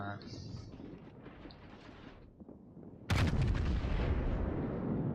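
Main gun volleys from the battleship Yamato in the naval video game World of Warships: a quieter stretch of rumbling gunfire, then a sudden loud broadband blast at about three seconds that rolls on heavily to the end.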